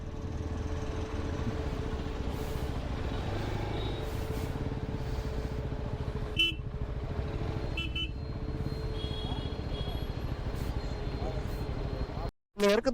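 A Yezdi motorcycle rides a coastal road in South India, giving a continuous engine drone and wind rush that stays steady and close throughout, with a brief cutout near the end.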